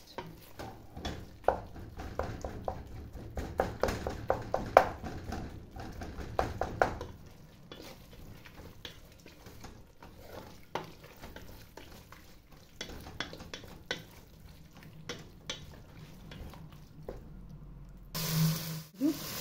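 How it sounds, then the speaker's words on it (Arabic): Shredded chicken breast filling being stirred and mashed in a pan on the stove, with repeated scraping and tapping of a utensil over a soft sizzle, close and alone. "حنا كنحركو وكندققو باش كيجينا الصدر ديال الدجاج يكون مفرتت"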